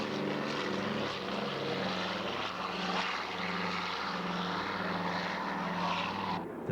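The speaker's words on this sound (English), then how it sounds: "The National Warplane Museum also has a PBY Catalina in its collection." A 1945 PBY Catalina amphibious airplane runs its propeller engines in a steady, loud drone with a pulsing low throb that holds for the whole stretch, then cuts off abruptly at the very end.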